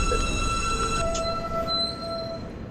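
An R160A subway train on an M line run in the OpenBVE simulator rolling into a station, a steady rumble with sustained high wheel squeal tones that shift as it slows.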